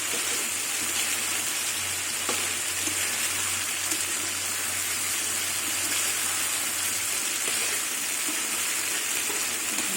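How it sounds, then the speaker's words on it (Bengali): Koi fish frying in hot oil with spice paste, a steady, dense sizzle with spattering crackle that runs unbroken and close for the whole stretch, with no talk over it. "এই মশলার মধ্যে মাছটা দিয়ে দিলাম"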